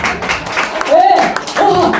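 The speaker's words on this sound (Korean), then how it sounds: "박수!" Bare hands clap a few times during a skincare demonstration of patting skin dry after washing, sharp claps mixed with a voice that sounds throughout.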